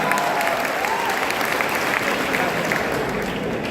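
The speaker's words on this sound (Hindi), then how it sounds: "उसने जोरदार ताली बजा दो एक बार" A seminar audience claps loudly in a steady, dense wash of applause that fills the hall, with faint voices mixed in.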